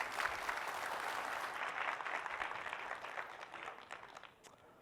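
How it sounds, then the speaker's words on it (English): Conference audience applauding after a talk introduction in San Francisco, a dense, steady wash of many hands clapping at moderate distance that tapers off slightly toward the end, with no voices over it. "So round of applause, please."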